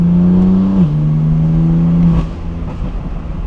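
BMW M4 exhaust droning while driving, a steady low engine note that dips in pitch as the car shifts, then settles into a rougher, quieter rumble with road noise.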